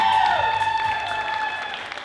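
An audience at a dance concert applauds the performers, a dense wash of clapping from a crowd that stays fairly steady and slowly tapers, with a lingering resonant tone underneath.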